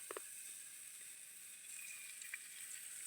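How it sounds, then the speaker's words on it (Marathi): Chopped onion frying in a little oil in a kadhai over a wood stove, a soft steady sizzle throughout with a few faint clicks, quiet and without talk. "हा कांदा आपल्याला तळून घ्यायचा आहे थोडा वेळ"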